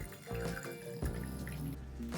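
Water poured into a kombucha brewing jar, a steady continuous liquid pour with dripping and trickling texture, close and moderately loud, with no talking.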